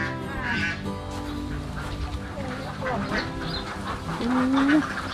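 Ducks on a laying-duck farm quack in a busy chorus of overlapping calls, some close and loud, with a Thai-speaking voice talking over them.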